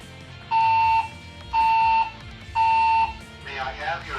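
Loud building alarm tone of three identical steady beeps, each about half a second long with even gaps, followed by a softer warbling tail between evacuation announcements.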